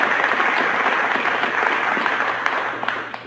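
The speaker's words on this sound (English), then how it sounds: "People just don't applaud like that with their hands and their heads." An audience applauds steadily, a dense wash of hand clapping that holds loud for a few seconds and thins slightly at the end.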